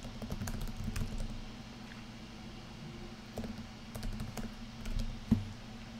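Computer keyboard typing as a login is entered, soft rapid key clicks in an uneven patter over a low steady hum, close and fairly quiet with no talking.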